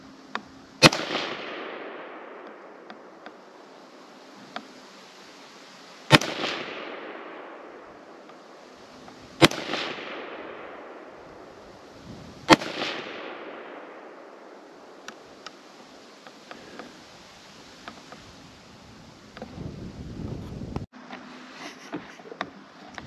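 Rifle firing 5.56 hunting ammunition outdoors: four loud, sharp shots spaced several seconds apart, each trailing off in a long echoing decay, with no voices.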